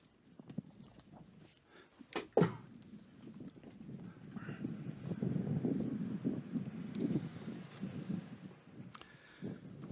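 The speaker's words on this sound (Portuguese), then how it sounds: "Um pouco de vento nesta manhã de quarta-feira." Wind rumbles and buffets a microphone outdoors on a Wednesday morning at a papal general audience, a steady low roar swelling in the middle with a couple of sharp knocks.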